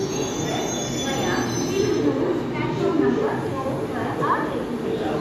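Cheran Express, the 11013 Mumbai–Coimbatore service, pulls into a station with steady rumbling rail noise and wheel squeal under continuous talk, the clatter rising and falling as the coaches roll past.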